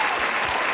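Short burst of steady applause, a dense even patter of clapping that runs the whole moment with no voices over it.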